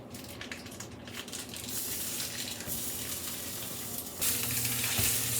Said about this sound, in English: We're just going to break the sausage down and fry it up and get it as small as we can.